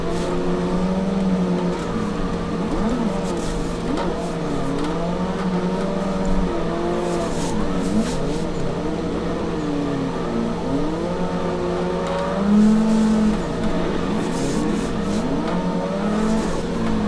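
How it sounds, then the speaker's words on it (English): A car drifting in the Assetto Corsa racing game, a steady engine drone with wavering revs and intermittent tire squeal running throughout, loud and continuous with no talking. "So we're in drift."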